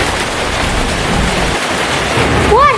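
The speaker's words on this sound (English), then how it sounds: "There's thunder." Steady hissing rain of a thunderstorm in Toca Life World fills the scene, with a low rumble of thunder and a brief sweeping chime near the end.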